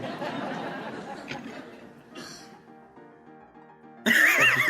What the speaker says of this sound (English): The fucking cough.